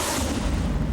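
Sydney New Year's Eve fireworks boom in a dense, loud, continuous rumble of overlapping explosions, a roaring wall of sound with no talk.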